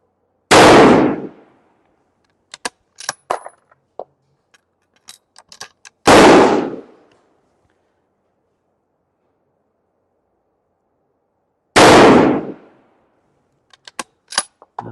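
Three loud, close rifle shots fired about six seconds apart during tuner load testing, each followed by sharp metallic clicks and clatter from working the action, with no talk.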